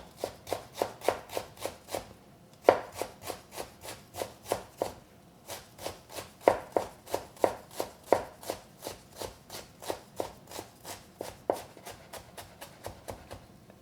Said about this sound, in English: Really enjoy cutting gingers.